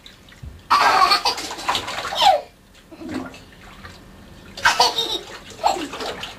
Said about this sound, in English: You splashing?